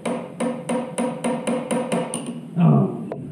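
A hammer taps repeatedly on a stuck motorcycle clutch bolt, about nine evenly spaced metallic strikes close up, then a louder, duller knock near the end.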